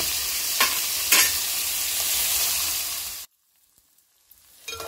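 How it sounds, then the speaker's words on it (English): Onions and spring onions fry in a pan for a poha dish, a loud steady sizzle broken by a couple of stirring scrapes, then suddenly cut to near silence before faint sizzling returns. "Onions have been frying for almost 2 to 3 minutes"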